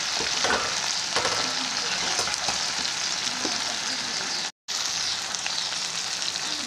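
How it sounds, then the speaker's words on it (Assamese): Eggs sizzle and hiss steadily as they fry in a pan with tomato paste, a dense close crackle running throughout with a brief cut near the middle. "ভাজি লোৱাৰ পাছত এতিয়া মই এই কণীকেইটা দি দিবলৈ লৈছোঁ"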